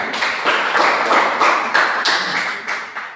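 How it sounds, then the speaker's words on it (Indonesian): Classroom students clap for a presenting group, a dense, loud, continuous patter of many hands, close and sustained, gradually fading toward the end. "Tepuk tangan buat kelompok 2."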